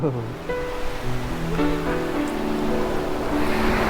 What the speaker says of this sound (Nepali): यति ठुलो छाल आइरहेछ।